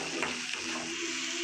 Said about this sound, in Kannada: ಒಂದು 6 ಬಾದಾಮಿ ಹಾಕಿದ್ದೀವಿ. ಮತ್ತು ಈಗ ಫ್ರೈ ಮಾಡ್ತಾ ಇದ್ದೀವಿ.